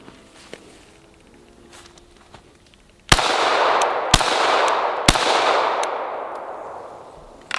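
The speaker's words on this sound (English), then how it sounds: "go ahead and take a couple shots with your Canic" A Canik pistol fired three times on a range, sharp loud cracks about a second apart, each followed by a broad lingering boom and echo, with quiet ambient noise and faint clicks before the first shot.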